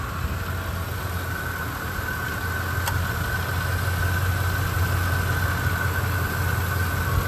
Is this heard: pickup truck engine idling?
yes